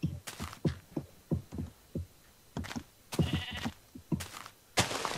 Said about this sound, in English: And there's a sheep up there.